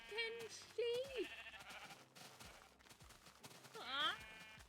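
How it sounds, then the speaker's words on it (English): Sheep bleating in the video game Minecraft: several wavering, nasal bleats come close and loud, one after another and separated by short gaps, over a busy layer of game sounds and clicks. "There were like 10 sheep! Why were there 10 sheep?"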